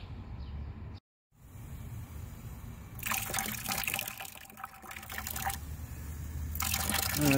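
Fluid drains from the fluid-filled tire of a Craftsman tractor in a steady, close trickle and splash. Louder gushing bursts come and go, with a brief break early on.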